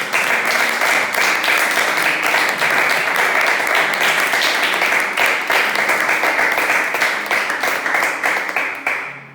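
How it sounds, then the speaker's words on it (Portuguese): A church congregation gives a loud, sustained round of applause during a worship service, dense continuous clapping that holds steady and begins to thin out at the very end. "Você pode dar um forte aplauso"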